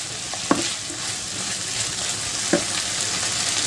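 Mushrooms fry over onions in a pan with a steady, close sizzle, broken by a couple of sharp scrapes as a utensil stirs them; nobody speaks.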